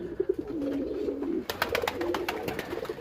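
A domestic pigeon sitting on its eggs coos softly and low, a few murmured calls, then a run of sharp clicks and rustles from close by.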